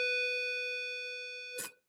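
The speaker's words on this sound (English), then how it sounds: "Oh, we have the bell" A school bell rings in a classroom as a single sustained, steady electric tone that fades slightly before cutting off with a short clatter at the end.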